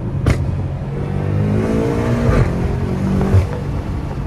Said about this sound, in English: Oh my gosh, you heard that spool?